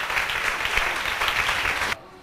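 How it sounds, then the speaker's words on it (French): Applause from a church congregation during a Mass, a steady dense clapping sustained for about two seconds before cutting off abruptly. "Applaudissements."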